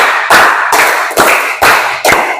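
Students in a school PE class on short-distance running clap their hands in a counted pattern, five sharp, loud group claps spaced roughly half a second apart with brief ringing decay between them.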